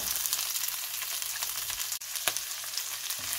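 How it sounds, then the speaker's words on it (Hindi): Garlic and bell peppers fry for a chicken stir fry with a dense, steady crackling sizzle close by. A couple of brief scrape or stir ticks sound partway through. "इसको 2 मिनट के लिए हम फ्राई कर लेंगे।"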